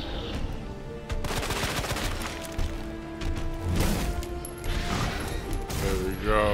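Repeated gunshots from a weapon in the Resident Evil 2 Remake video game, loud and rapid with sharp bursts over a dense game soundscape, with some faint talk mixed in.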